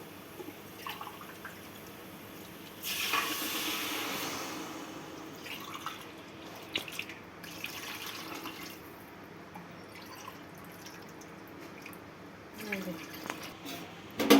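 Water splashes and gushes into a pot of rice for egg biryani for a few seconds, followed by drips, clinks and handling noises nearby.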